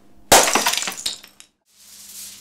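A priceless Ming Dynasty vase smashes with one sudden loud crash, followed by a rapid spill of tinkling, clinking shards that dies away within about a second.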